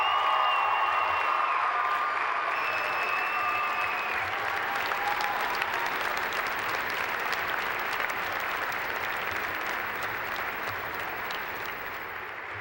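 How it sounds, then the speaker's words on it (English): Sustained applause from a large audience at a 2013 university commencement ceremony, dense and steady clapping lasting throughout and slowly fading toward the end, with some background tones early on. "acknowledge your family and friends with a round of applause"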